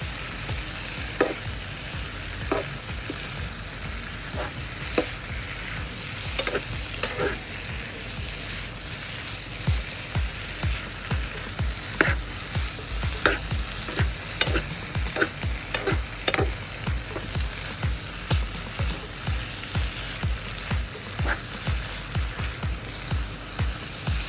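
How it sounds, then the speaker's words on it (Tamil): Vegetables for biryani sizzle steadily in a hot pan while a utensil scrapes and stirs in repeated, rhythmic strokes, close and fairly loud throughout. "மரக்கறி வகைகளையும் சேர்த்து நன்றாக கலவையாக கலக்கும் வரை கிளறிக்கொள்ளுங்கள்"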